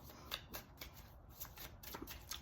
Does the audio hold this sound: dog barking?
no